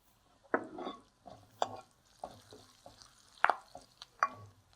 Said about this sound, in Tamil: இதை நல்லா ஃப்ரை பண்ணி எடுத்துக்கலாம். கொஞ்சம் கருவேப்பிலை சேர்த்துக்கலாம்.